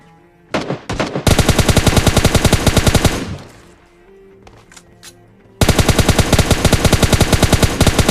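Loud, rapid automatic gunfire from PUBG Mobile Lite, with a short burst, then a long sustained stream of shots, a pause with faint movement sounds, and another long fast volley.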